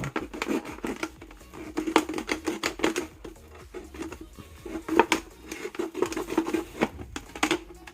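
Scissors snip through a thin plastic plant pot being cut down for a self-watering planter, giving quick irregular crisp clicks and crackles at close range with no voices.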